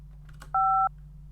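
A single touch-tone keypad beep from a phone pressed during an automated satisfaction survey, a steady dual-tone lasting about a third of a second over a low line hum, with no talking.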